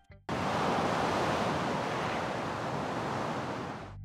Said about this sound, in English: in the background here, you can actually hear the waves of the sea.